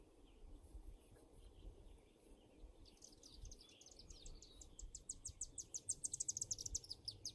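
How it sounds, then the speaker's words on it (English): Outdoor nature ambience with geese, birds and frogs: a faint low background murmur, then rapid, repeated high chirps and tweets growing busier and nearer toward the end, with insect-like trilling underneath. "There's geese and birds and frogs."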